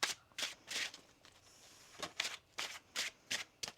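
A tarot deck being shuffled by hand in a series of quick, crisp riffling bursts, close and fairly quiet, with short pauses between shuffles.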